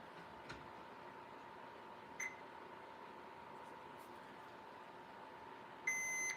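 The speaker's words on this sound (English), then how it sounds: "So we'll get the meter on continuity mode. And if it has continuity," A multimeter in continuity mode gives a short beep, then a steady beep at the end over a quiet hum, with faint ticks in between.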